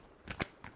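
Tarot cards riffled in a final shuffle: a few short crisp bursts of card noise, close and quiet, with near silence between them and no talking.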